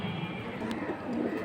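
Pigeons coo softly in a low, murmuring drone over constant background noise, faint and a little distant.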